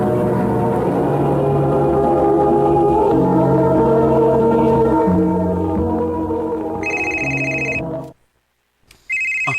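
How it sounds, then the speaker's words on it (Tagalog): A phone's electronic ringtone for an incoming call chirps in high repeated pulses over fading background music. It breaks off into a brief silence, then starts ringing again. "Uy, si Pastor Newmir man yung nanawag"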